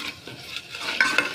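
A spoon stirs spices into a crackling tempering in a pan, making scraping, clinking strokes against the metal over a soft sizzle, close up with short irregular bursts.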